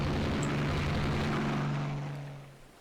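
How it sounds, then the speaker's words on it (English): Aircraft bombing shore installations in the naval strategy game Rule the Waves 2 produce a loud, steady engine drone with a low rumble, which fades away over the last second. "So some of our aircraft are bombing their installations."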